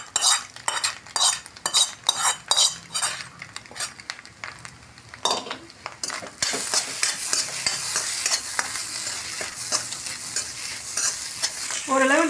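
Tomato and onion with egg sautéed in a pan for egg podimas, a spatula scraping and clattering in quick repeated strokes, then a steady close sizzle of frying as the stirring stops.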